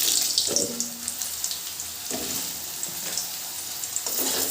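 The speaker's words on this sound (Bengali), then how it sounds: "ফোড়নটা ভাজা হয়ে গেলে এর মধ্যে দিয়ে দিলাম কেটে রাখা আলুগুলো" Cut potatoes added to hot mustard oil with bay leaves and whole cumin sizzle and hiss steadily up close, with a few soft clatters from the pan.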